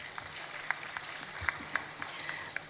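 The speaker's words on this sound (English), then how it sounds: "I think our national youth leader deserves a round of applause for pulling this through." A sparse audience at a youth event applauds their national youth leader with scattered, irregular claps, a handful of sharper hits standing out over a quiet background.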